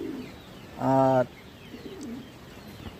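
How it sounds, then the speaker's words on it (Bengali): A pigeon gives one clear, close coo lasting about half a second, with a faint second call later over quiet background noise; a voice speaks briefly. "নিচে অনেক কবুতর ডিম পারছে।"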